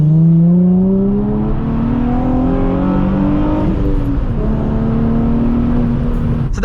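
A Nissan Z accelerating out of a roundabout, with a loud, close engine note rising steadily, a shift near the middle and a continued climb, and no voices.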